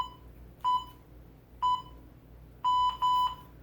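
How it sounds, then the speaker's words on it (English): A game countdown timer gives short electronic beeps: two single beeps about a second apart, then two longer tones in close succession, clear and fairly loud against a quiet background. "The timer gives me 5 seconds to get ready."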